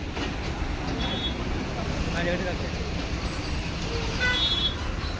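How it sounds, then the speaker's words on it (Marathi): Steady road traffic noise heard from inside a moving bus on a highway heading to the Konkan region, with a constant low engine and road rumble throughout and no clear voices. "पूर्ण ट्रॅफिक आहे बघा"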